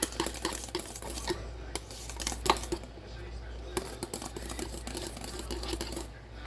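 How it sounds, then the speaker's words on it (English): Powder being stirred and mixed into liquid with a whisk in a container, irregular clinks and scrapes against the sides and bottom, close by, with a steady low hum underneath and talk running over it. "make sure everything from the bottom to the sides is mixed in real well. All the powder is dissolved in"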